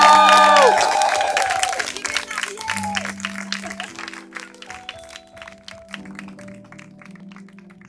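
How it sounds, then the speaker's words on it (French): Audience applause from a crowd, loud at first and gradually fading over several seconds, with musical tones and voices mixed in above the clapping. "On peut les applaudir très très fort."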